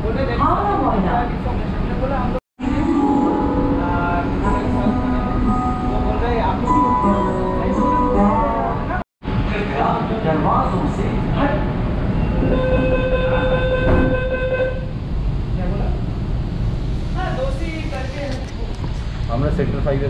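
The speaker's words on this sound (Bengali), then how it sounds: "জাস্ট ট্রেনের দরজা বন্ধ হলো, এখন চালু হবে" A Kolkata East-West Metro underground train pulls away from Sector 5 station, its motor whine rising and steady rumble filling the carriage, with two brief cuts and people talking throughout.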